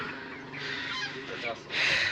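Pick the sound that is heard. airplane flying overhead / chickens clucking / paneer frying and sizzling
chickens clucking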